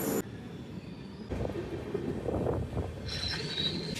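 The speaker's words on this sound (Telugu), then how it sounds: "బట్ ట్రైన్ అయితే వచ్చేసింది." A train pulling into a station in Nellore, its steady rumble rising after a brief opening burst, with a high wheel squeal entering near the end; no talk over it.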